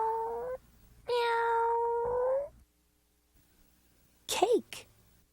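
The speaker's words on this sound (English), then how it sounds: "Cat." A cat meows in two long, drawn-out, steady calls, then a short rising yowl after a pause, clear and close with near silence between them.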